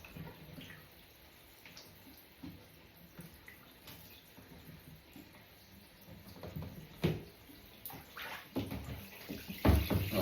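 Water from a tap running into a bathtub to rinse it out after bathing dogs, a continuous splashing flow with knocks and sloshes growing louder toward the end.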